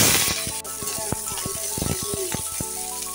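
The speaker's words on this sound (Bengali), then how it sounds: "এখন আমি পটলগুলো ভেজে নেব।" Pieces of pointed gourd frying in mustard oil in a pan, with soft sizzling and a few sharp clinks of a utensil against the pan, close and steady over about three seconds.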